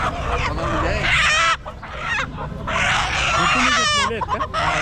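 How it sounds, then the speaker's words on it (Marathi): Many roosters and hens cluck and squawk close by in a noisy crowd at a poultry market in Chakan, with a person talking among them. "सगळे कोंबडे आहेत बघा"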